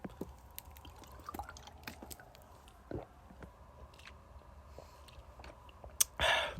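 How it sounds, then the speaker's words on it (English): Quiet, close-up sips and small wet mouth clicks, scattered and soft, ending with a louder swallow-like rush of noise. "I'm going to take a sip of water."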